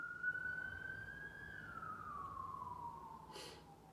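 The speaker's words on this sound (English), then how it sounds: "so if you guys hear cops or ambulances, that is why" A police or ambulance siren sounds outside near a police station, a faint distant wail rising then slowly falling in pitch, heard through a quiet room.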